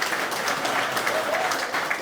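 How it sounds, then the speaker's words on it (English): Applause from a gathered crowd at a baseball announcement in Kinston, a continuous, fairly even clapping texture that fills the short stretch without a break. "Give yourselves a round of applause for being here."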